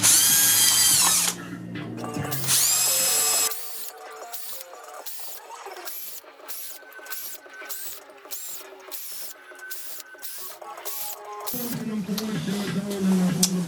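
Holes being drilled into a metal can to make a camping stove, a series of short, rapid drill bursts repeating rhythmically, close and fairly loud, with some music-like tones at the start and end.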